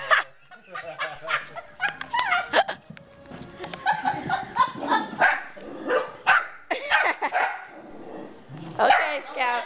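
A puppy barks in repeated sharp, high yaps close by, mixed with people laughing and talking over and between the barks.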